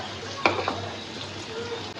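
Spice paste for beef bhuna sizzles gently in a pan under a steady frying hiss, with a couple of brief scrapes of stirring near the start.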